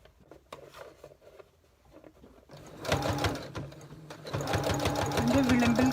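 A sewing machine stitches along the edge of a cloth face mask made from an old chooridar, its rapid needle rattle starting softly with scattered taps and then running steadily and louder, close by, with someone speaking over it.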